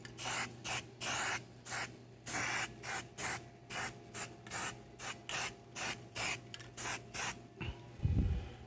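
About fifteen short, sharp hisses of lubricant spray, evenly spaced, are aimed at rusty parts of a C-10 truck close to the microphone, with a faint steady hum behind them and a brief low thump at the end.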